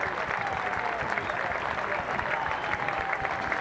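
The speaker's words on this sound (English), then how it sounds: "One more round of applause." A basketball event crowd applauding during a March Madness celebration at a girls' high school game, a dense steady wash of clapping that holds evenly throughout, with a voice faintly mixed in.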